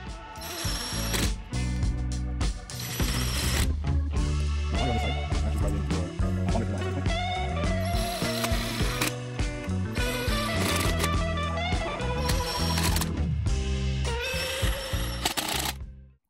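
A 3mm hex driver is ratcheted during a tire change on an InMotion V11 electric unicycle. Dense metallic clicking and whirring runs loud and nearly nonstop for about sixteen seconds, close up, with no voices.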